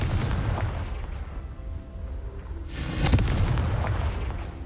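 A Confringo spell explosion in Hogwarts Legacy bursts as a sudden booming blast with a crackling tail, following a quieter stretch of low rumbling game ambience.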